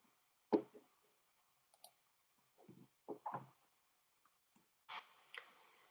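A computer mouse clicks sparsely in a quiet room, several sharp close taps scattered irregularly, some in quick pairs.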